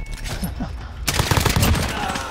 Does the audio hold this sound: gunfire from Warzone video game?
yes